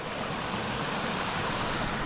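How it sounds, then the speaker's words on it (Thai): A waterfall at a Thai mountain stream where anglers fish for freshwater fish, heard as a steady, dense roar of rushing water close by, unbroken and without voices. "น้ำตกสวยๆเลยนะครับ"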